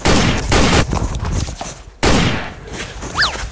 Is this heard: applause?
no